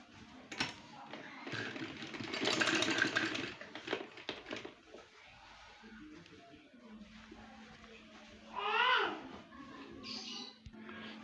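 Sewing machine running zigzag stitches on cut work trouser fabric, a close, fast mechanical whirring in bursts of varying length, with someone talking quietly in between.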